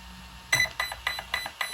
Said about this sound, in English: You're going to hold it and you're going to wait for the beep.